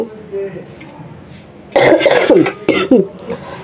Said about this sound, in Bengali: আমার যে কাশি, মানে কাশলে বুক ব্যথা করে